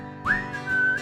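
A person whistles a short rising note that levels off into a sustained tone, near and clear, part of a children's sing-along song.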